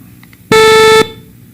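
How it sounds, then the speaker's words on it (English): Synthesized sawtooth wave tone at 440 hertz, a single steady buzzy beep lasting about half a second with a dense stack of harmonics, loud and alone against faint background hiss. "You can go one step farther and create a sawtooth."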